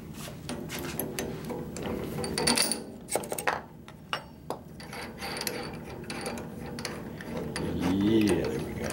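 A drill press chuck is cranked tight with a chuck wrench, giving close, quiet ratcheting gear clicks in short irregular bursts with a few sharper metallic ticks, and no speech over it.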